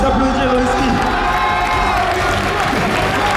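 A loud crowd at a boxing event claps and cheers close by, a constant wall of shouts, whoops and applause with voices mixed throughout.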